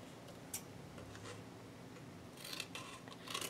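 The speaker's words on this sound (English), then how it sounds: "I just kind of slide my scissors underneath that scroll work so it still will fit" Scissors snipping paper around scroll work in a holiday train papercraft project, faint quiet clicks and cuts at close range, with a few brighter snips near the end and no talking.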